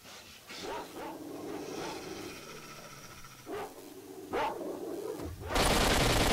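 Mutant dogs in the game S.T.A.L.K.E.R.: Shadow of Chernobyl bark and yip in several short bursts at middle distance, ending in a loud, harsh burst of noise.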